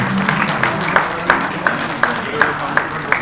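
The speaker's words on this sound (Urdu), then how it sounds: "آپ کی تالیاں بتائیں گی کہ یہ کیسا رہا پروگرام" An audience at a formal event applauds in a steady rhythmic clap, sharp regular beats roughly three per second, loud and close, with a voice speaking faintly underneath.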